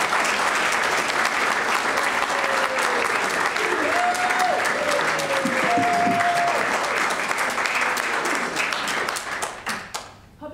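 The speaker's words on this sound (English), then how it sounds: "he needs a round of applause" Sustained applause from an audience at a talk on public ownership, dense and steady clapping with faint voices mixed in, tapering off near the end.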